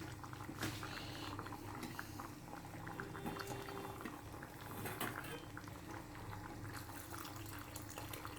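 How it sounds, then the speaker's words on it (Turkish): Water poured into a pot of simmering soup, a steady bubbling boil with liquid splashing and trickling in throughout, close and continuous. "Suyu azalmış. Biraz su ekleyeceğim."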